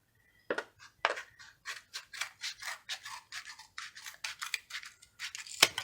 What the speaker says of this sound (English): Just cut the bottom off, and it makes it an open cup.